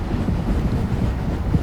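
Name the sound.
freight train passing on New Jersey North Coast line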